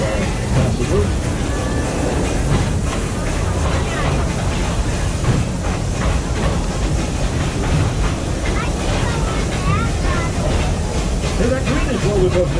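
The Busch Gardens park train rumbles along its rails with a continuous clattering roar and hiss, steady and close throughout, while a voice talks over it.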